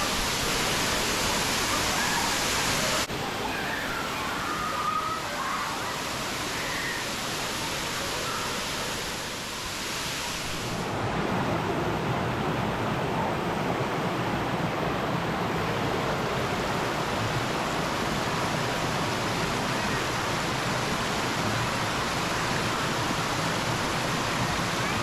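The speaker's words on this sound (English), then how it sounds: "we made it to the waterfall" Waterfall at Hanging Rock State Park rushing in a loud, continuous roar, with faint voices partly buried under the constant wash of water.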